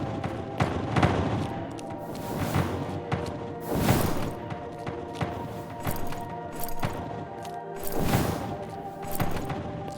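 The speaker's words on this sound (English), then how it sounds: "Ether explosion." An ether explosion skill fires in the 2D gothic action-RPG Drova, loud crashing bursts and thuds recurring every few seconds amid ongoing combat clatter.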